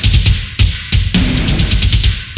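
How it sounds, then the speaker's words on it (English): Drums driven hard through SansAmp distortion in a mix, with sharp, gritty hits landing at a steady rhythm over a dense, saturated wash, loud and close with no talking. "And then I have the distortion. I'm using Sans amp."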